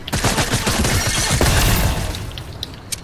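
Rapid SMG gunfire in the video game Fortnite, a dense continuous burst of shots for a few seconds before tapering into scattered lighter impacts.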